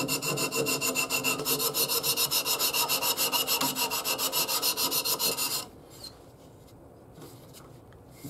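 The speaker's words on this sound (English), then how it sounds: "now we are going to just run the sandpaper in this slot" Sandpaper is rubbed back and forth through a slot cut in a piece of wood, giving a loud rhythmic rasping scrape for about five seconds before it stops and quiet handling noises follow.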